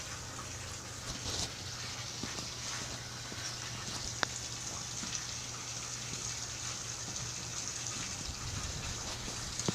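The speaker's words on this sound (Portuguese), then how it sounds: "Não sei porque a água tá vindo" Steady broadband rush of flowing water in a block-building game, a continuous gushing wash with a low hum underneath and a couple of faint clicks, no voices.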